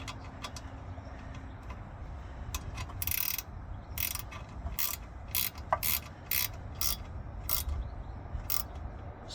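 A ratchet with a 10mm socket turns a bolt while wheel spacers are fitted to a Ford Fiesta ST180 Mk7: quick bursts of sharp clicking, repeated in short runs with pauses between, heard close.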